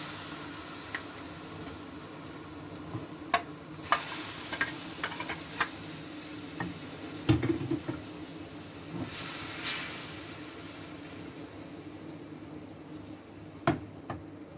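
Masala-marinated chicken cooks in a pan with a spoonful of oil, giving a steady, faint sizzle and hiss with occasional small ticks and pops throughout.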